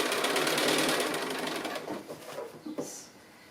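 A sewing machine stitches down quilt binding on the front near the last corner, a close, steady rapid whirr that slows and falters toward the end before stopping, leaving a quiet room.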